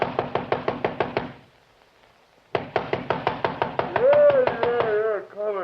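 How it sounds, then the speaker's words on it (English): A fist pounds on a door in an old-time radio detective drama: two runs of rapid, heavy, evenly spaced knocks are split by a brief silence, and a voice joins near the end. "and 10 minutes later I was pounding on his door"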